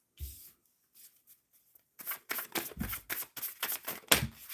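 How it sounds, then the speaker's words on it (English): Tarot cards shuffled during a live reading, a quiet brief riffle at the start, then a steady run of papery flutters and soft slaps that grows louder, ending in a sharp card snap. "Shuffling for Cyan, will they get funding from Corfo?"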